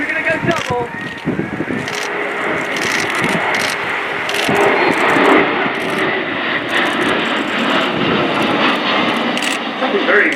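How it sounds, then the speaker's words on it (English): A Kawasaki P-1 maritime patrol aircraft, powered by IHI XF7-10 turbofans, makes a fly-past at around 250 knots at the RIAT 2015 airshow: a loud, sustained jet roar with a commentator talking over it. "Another fly past now from the P-1, this time at around 250 knots."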